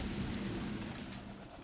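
Rain falling on a canal narrowboat, a dense steady hiss with a low rumble beneath, fairly close and continuous, with no talking.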